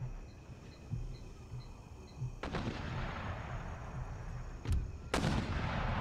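Howitzer artillery in Empire Total War booms out in a few heavy, distant-sounding blasts that rumble over a steady battlefield din, with faint rhythmic chirps in the background.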